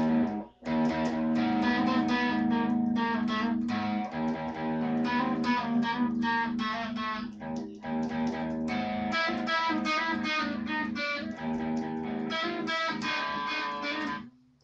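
A distorted electric guitar plays a heavy riff alone, a loud, dense, continuous wall of chugging chords with brief gaps between phrases.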